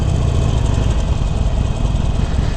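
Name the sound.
Harley-Davidson Forty-Eight Special motorcycle engine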